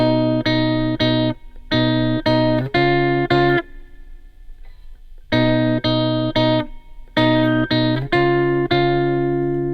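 An electric guitar plays the opening riff of a song, short repeated chord bursts with brief pauses between phrases, clear and close, no voices.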